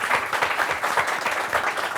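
A ceremony audience at the French Anime Awards 2023 applauds the studio staff with steady, dense clapping that fills the room evenly for a couple of seconds.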